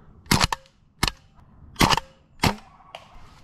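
Gas-powered airsoft sniper rifle shots popping in quick succession, four sharp cracks and a fainter fifth, close and crisp with short gaps between.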